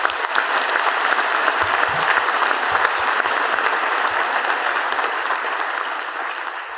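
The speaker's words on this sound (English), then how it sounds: "I'm going to ask you to join me in a round of applause to acknowledge her achievement" A full audience at a university convocation ceremony gives a sustained round of applause, dense even clapping filling the hall for several seconds before easing slightly at the end.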